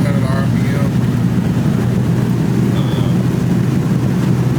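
A 1973 Chevy Impala cruising at roughly 65 mph around 1,700 RPM, a steady low engine drone mixed with road and wind noise from inside the car, constant and unbroken.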